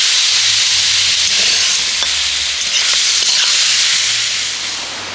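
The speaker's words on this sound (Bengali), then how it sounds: "এবার সব কিছু একসাথে খুব ভালো করে একটু কষিয়ে নেব" Mushrooms sautéing with ground spices and mustard oil in a pan, producing a loud, continuous hissing sizzle with faint stirring scrapes, steady throughout and easing slightly at the end.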